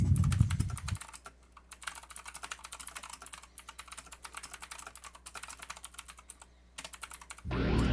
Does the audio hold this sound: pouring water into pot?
no